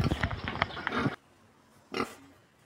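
Farm pigs about 80 days old, just after a bath, grunt and oink close by. A dense burst of grunting runs for about a second, then after a short quiet a single squealing grunt follows.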